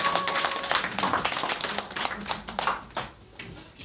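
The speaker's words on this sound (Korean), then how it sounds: "큰 박수로 하나님께 영광을 드리겠습니다." A church congregation at a Christmas service claps in a dense, fairly quiet burst of applause that thins out toward the end.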